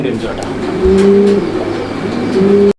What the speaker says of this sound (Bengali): প্রিয় বন্ধুরা আমরা এই মুহূর্তে দেখতে পাচ্ছি এখানে আরো এক জোড়া কবুতর আছে